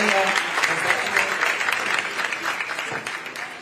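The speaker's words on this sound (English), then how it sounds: "Let's truly give a round of applause to the Ritz-Charles staff and the chef." A banquet audience applauds the hotel staff and chef after a church luncheon, a steady wash of clapping that slowly thins toward the end.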